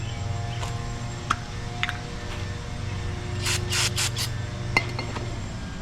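Brake cleaner sprayed from an aerosol can while working on a 1960 Buick LeSabre fuel pump, several short hissing bursts close by among scattered clicks and rubbing tool noises.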